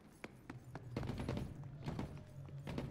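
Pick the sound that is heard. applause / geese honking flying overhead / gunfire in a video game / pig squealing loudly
gunfire in a video game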